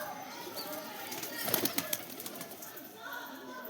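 Soft rustling bursts of young homing pigeons flapping their wings in training, peaking in a quick flurry midway, over a quiet background hiss.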